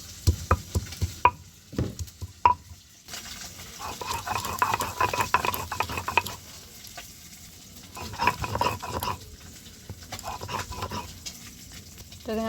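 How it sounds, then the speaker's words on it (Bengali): Ginger and garlic ground on a flat grinding stone, rhythmic rasping strokes and dull knocks that come in clusters with brief pauses, fairly close and without speech. "তো এইখানে আমি শিলের মধ্যে আদা আর রসুনটা নিয়েছি। এই আদা রসুনটা আমি বেটে নেব।"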